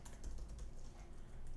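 Quick, soft keystrokes clatter on a computer keyboard while Java network chat code is typed, a close and steady burst of taps.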